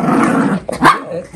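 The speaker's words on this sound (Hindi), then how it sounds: "ये टग ऑफ वॉर चल रहा है दोनों कुत्तों के बीच में" Two dogs playing tug of war growl loudly at close range, a rough continuous rumble broken by a short bark-like burst near the end.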